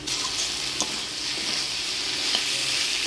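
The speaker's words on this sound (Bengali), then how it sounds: "সবজিটা দেখেন কি সুন্দর মজে গেছে, তার একটু নাড়াচাড়া করে নামিয়ে দিচ্ছি" Winter vegetables cooked with dried fish (shutki) are stirred in a hot pan, a soft continuous sizzle broken by a few scraping spoon strokes, close and moderately quiet.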